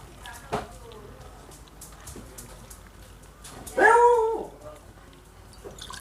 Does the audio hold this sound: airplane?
no